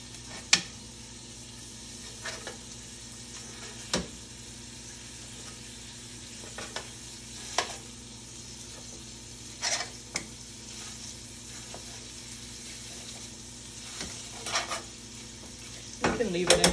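Sausage meat browning in a pan while tongs break it up, a constant soft sizzle under scattered metallic clicks and taps from the tongs against the pan, heaviest near the end, with no one talking.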